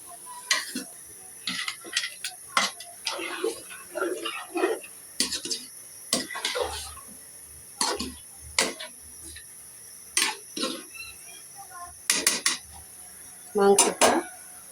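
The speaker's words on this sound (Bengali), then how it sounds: "ভালো করে মাংসটা নাড়া দিয়ে মশলাটা" Beef with spices being stirred in a cooking pot for an Eid recipe, a metal spoon scraping and knocking against the pot in irregular bursts, close and clear with quiet pauses between strokes.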